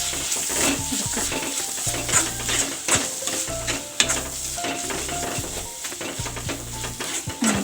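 Fish keema with chilli powder and garam masala being stirred in a pan, a steady sizzle under repeated scraping and clinking strokes of a spoon against metal, close and continuous.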